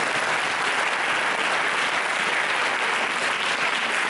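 A congregation at an annual church convention applauding a pastor, a dense, loud, sustained wash of clapping from many hands that fills the room evenly throughout.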